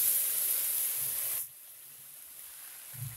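Spice paste dropped onto golden fried onions for besan gatte sabzi, a loud steady hiss of sizzling that suddenly drops to near quiet, with a soft clatter toward the end.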